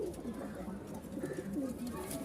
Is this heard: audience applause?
no